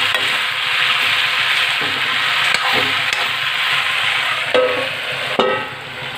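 Mixed vegetables fry and sizzle in a pan. Steady hissing runs throughout, broken by a few sharp knocks and scrapes of stirring, with no voices.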